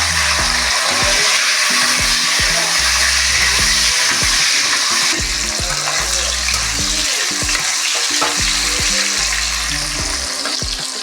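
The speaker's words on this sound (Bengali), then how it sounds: "একটু লাল লাল করে ভেজে নেব।" Tomato and green chilli fry loudly in a pan, a dense, continuous crackling sizzle with bubbling oil and occasional stirring scrapes, close and steady throughout.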